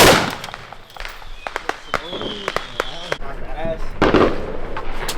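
Fireworks go off near a fireworks stand: a quick series of sharp pops and crackling bangs, some clustered, with people talking and moving around them.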